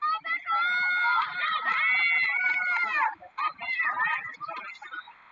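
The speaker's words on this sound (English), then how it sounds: "I can hear the Omaha teammates cheering on Becca Campbell in lane number 4" Teammates cheer at a women's 4x400 relay track race with loud, high-pitched shouts and screams, nearly continuous with brief breaks.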